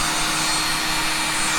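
A small Xiaomi Jimmy JV11 bagless handheld vacuum cleaner runs loudly and continuously, a steady high-pitched whirring roar with no pauses.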